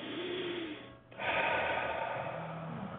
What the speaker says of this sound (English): One more exhale.